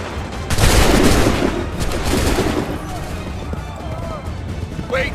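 A musket volley in Assassin's Creed 3 Remastered on PC: a loud, dense burst of near-simultaneous shots cracks out early, followed by rumbling echoes and a second rattling wave, with voices and battle noise underneath.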